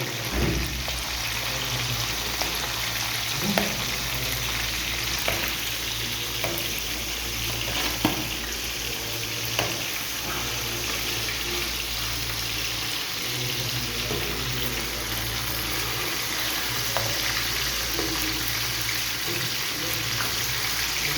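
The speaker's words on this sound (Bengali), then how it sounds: "দেখেন এক সাইড কি সুন্দর ফ্রাই হয়ে গেছে।" Fish fries in a pan of oil, giving a continuous close sizzle with faint clicks and light stirring scrapes over about twenty seconds. Nobody talks.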